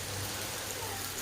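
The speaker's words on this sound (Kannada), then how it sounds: "ಮಳೆ ಬರ್ತಾಯಿದೆ ಅಂತ" Steady rain falling outside a home, a dense continuous hiss with a low rumble beneath, holding even and fairly loud throughout with no talk.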